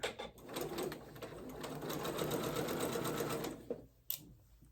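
A sewing machine runs steadily on shirt seams, a close, even mechanical whir of rapid needle strokes that slows and stops near the end.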